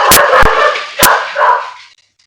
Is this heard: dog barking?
yes